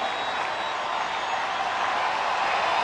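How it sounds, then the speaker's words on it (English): Steady roar of a baseball stadium crowd cheering during a Tampa Bay at Detroit game, broad and continuous, holding at an even level throughout with no distinct voices standing out. "here comes the crowd again"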